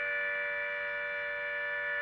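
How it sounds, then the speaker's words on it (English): Civil defense air raid sirens sound over Warsaw, a sustained steady wail that holds level and loud throughout with no speech over it. "We are hearing sirens over Warsaw."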